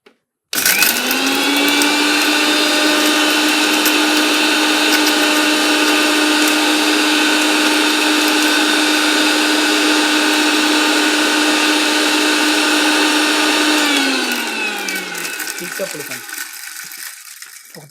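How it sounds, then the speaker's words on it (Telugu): An electric mixer grinder blends cinnamon, cloves and a piece of ginger, its loud steady whine running for about thirteen seconds before winding down as the motor stops. "అంతే, దీన్ని మిక్సీ పెట్టేసుకుందాం."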